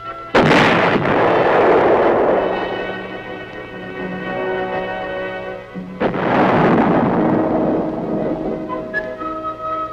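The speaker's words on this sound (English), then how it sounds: "With a gun as large as this, muzzle blast is a potential source of damage and a hazard to the crew." A large tank gun fires at a proving ground, two huge muzzle blasts about six seconds apart, each a loud close boom with a long rumbling decay.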